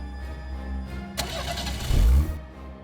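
A car engine runs steadily, then rises with a sharp surge and a deep rumbling rev before settling, heard close with no talking.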